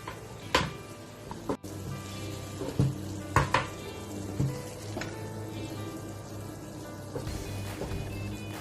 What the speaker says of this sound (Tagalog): When you hear the sizzling sound, you can add sesame oil.